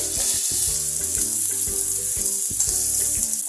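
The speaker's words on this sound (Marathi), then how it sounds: "ते थोडं तुपावरती परतून" Steady hissing sizzle of chili-ginger paste frying in hot ghee, with occasional stirring clinks and background music playing throughout.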